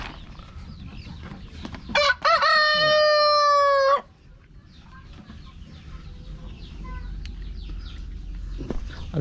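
A rooster crows once, loud and close, a long drawn-out call standing out over quieter farmyard clucking and background noise, with brief human voice nearby.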